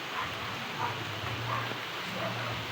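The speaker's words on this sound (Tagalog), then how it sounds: "Ayun na, bumagsak na ang ulan." Rain falls steadily during a typhoon over a small pen area, a soft, continuous hiss with a low hum beneath and no talk.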